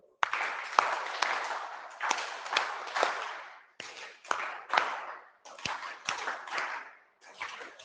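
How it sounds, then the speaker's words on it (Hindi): Students in a classroom clap their hands together in a rhythmic pattern, quick bursts of claps grouped in repeating phrases with short pauses between groups. "चलिए अच्छा ताली बजाएंगे, चलिए एक बार ताली"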